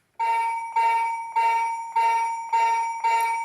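Roboboa robot's alarm bell ringing in six evenly spaced, bright metallic trills, each about half a second long, loud and close with nothing else heard.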